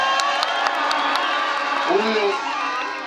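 A crowd at an outdoor political rally claps and cheers for Brian, a continuous roar of voices and whoops with some clapping, loud and close.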